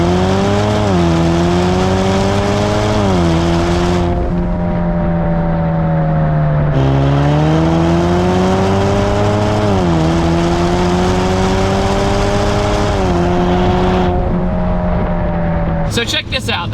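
A Ford Mustang EcoBoost with a 10-speed automatic accelerates hard, its engine note climbing steadily and then dropping at each upshift through second and third gear. The drone is loud and continuous, heard from inside the car.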